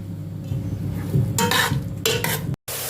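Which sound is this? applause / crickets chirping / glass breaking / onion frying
onion frying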